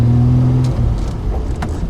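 A 1973 Triumph TR6 engine runs steadily while driving, a loud continuous mid-range drone under steady road noise, with a brief low tonal hum early on.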